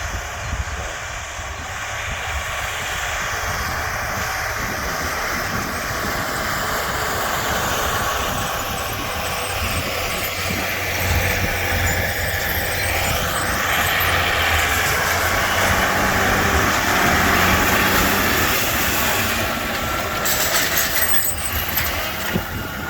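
A farm tractor working a field during soybean planting, its engine a steady low drone under heavy wind buffeting that swells gradually as it draws nearer, with no talking.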